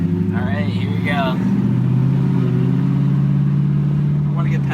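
A Pontiac GTO cruises along with a steady, loud low engine drone from inside the cabin, while people talk over it throughout.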